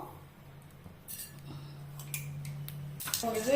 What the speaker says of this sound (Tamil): அதுக்கப்புறம் கடுகு உளுந்தம் பருப்பு போட போகிறேன். அப்புறம் அது வெடிக்கட்டும்.